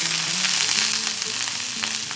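Curry leaves sizzling in hot sesame oil, a loud, steady crackling hiss close up with faint popping throughout and no talking.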